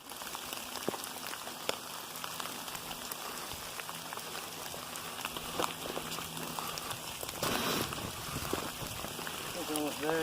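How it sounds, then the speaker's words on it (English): Rain falling on a mountain, heard from inside a tent as a soft, steady patter of drops with scattered taps and rustles, faint and continuous. "I don't know if you guys can hear that, but it's raining."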